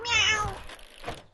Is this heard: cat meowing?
yes